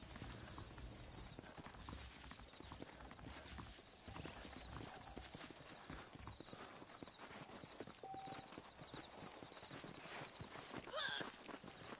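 Horse hooves clip-clop steadily in the Red Dead Redemption video game, a walking rhythm blended into dense game music and ambient sound across the whole stretch.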